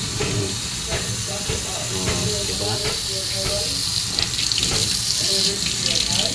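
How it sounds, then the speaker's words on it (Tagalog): Pressurized water sprays and hisses out of a newly installed water line, a steady rushing jet throughout with someone talking briefly over it. "So ito yung labas ng tubig niya. Ayun oh. Oh. Sumisirit."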